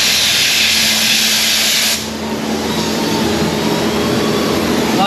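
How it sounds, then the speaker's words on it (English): A patch panel is welded into the rusted floor of a 1973 Chevy Caprice Convertible, a loud steady hiss and crackle running throughout, close up, with the tone dropping slightly partway through. "We're welding it in now."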